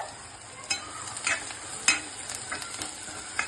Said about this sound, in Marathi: लालसर भाजून घेते कांदा।